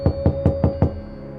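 A wooden door is knocked five times in a steady, even rhythm, close and firm, with a low hum beneath.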